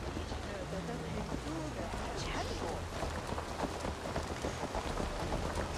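Steady rain falling across an outdoor area in Assassin's Creed Valhalla, a constant dense hiss that runs throughout, with a voice speaking over it and occasional low rumbles in the background.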